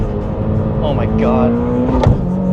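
Turbocharged Toyota GR86 with an HKS turbo kit, running on E85, accelerating hard with a steady rising engine drone and a sharp burst near the end, heard from inside while people talk and exclaim.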